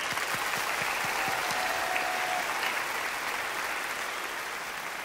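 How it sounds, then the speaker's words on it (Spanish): A studio audience applauds steadily for a team of sports commentators being introduced on a TV show, dense continuous clapping holding at an even level for the whole stretch with no voices over it. "Un fuerte aplauso, por favor."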